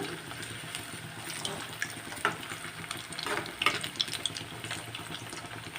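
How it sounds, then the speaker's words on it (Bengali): Coconut-filled gokul pitha deep frying in oil over a medium-to-high flame, a soft, continuous bubbling sizzle with a few light splashes and clinks, fairly quiet. "এইভাবে ডিপ ফ্রাই করে নেব"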